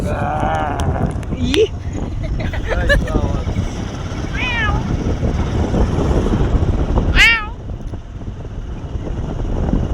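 A voice imitates a cat's meow a few times, short wavering cries over a steady rumble and background chatter.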